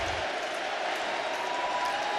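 Baseball stadium crowd at an MLB playoff game between the Diamondbacks and Dodgers, a dense, steady roar of cheering voices filling the clip at moderate volume.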